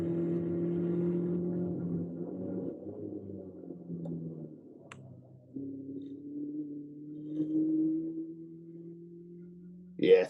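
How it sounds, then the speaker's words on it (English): Caterham race car braking and downshifting through the chicane at Donington Park GP, a steady engine drone with shifting pitch and a sharp burst at the end. "You could probably hear the tyres as well"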